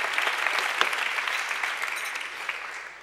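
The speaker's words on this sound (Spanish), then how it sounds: "Os pediré un segundo aplauso para Francis y para Paul, que lo acompaña hoy aquí." Audience applause fills a hall after a speaker introduces two guests at a presentation, a dense, steady wash of clapping that holds at even strength and tapers slightly toward the end.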